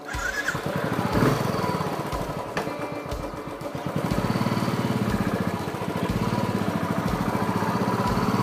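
Royal Enfield Classic 350 motorcycle engine starting and settling into a loud, steady thumping idle close by, its regular pulsing beat continuing throughout.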